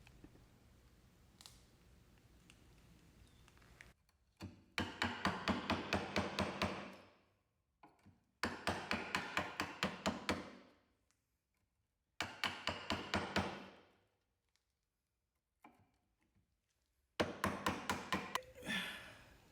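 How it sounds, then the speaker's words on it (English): Chisels gouging waste out of a wooden mortise for breadboard ends: rapid bursts of sharp tapping strikes, each run lasting a few seconds and separated by short quiet pauses, close and fairly loud. "take a large chisel and a 1/2-inch chisel and gouge out the rest of that"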